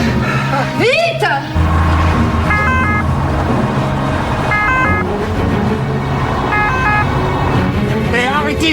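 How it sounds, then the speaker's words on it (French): Ambulance siren wailing in repeated two-tone cycles, loud and fairly close, mixed with traffic noise while people speak anxiously over it. "Mais arrêtez cette sirène"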